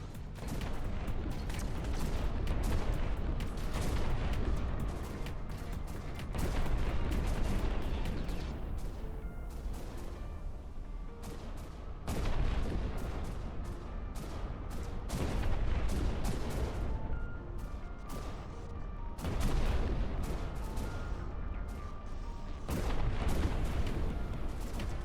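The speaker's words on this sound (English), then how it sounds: "just lots of shooting" Video game battle with an Imperial faction destroying an enemy HQ: relentless gunfire and booming artillery in overlapping volleys, dense and loud throughout with rolling swells of impacts and no clear pauses.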